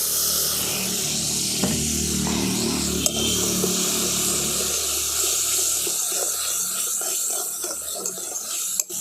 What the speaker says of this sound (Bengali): এই মশলার বাটিটা ধুয়ে আমি অল্প একটুখানি জল দিয়ে দিচ্ছি।